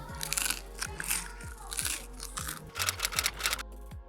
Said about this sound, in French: Ce pain est juste ultra croustillant.